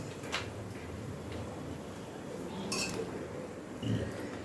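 Fried fish roe fritters are lifted from a pan with a utensil, giving a few faint, scattered metallic clinks over a quiet kitchen background.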